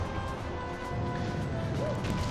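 A meteorite impact rumbles and crashes in Super Mario Galaxy 2, with thick low debris noise that dips briefly near the start, then continues steadily, plus a small chirping tone late on. No one speaks.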